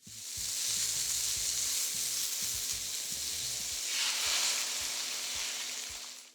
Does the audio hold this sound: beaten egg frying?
yes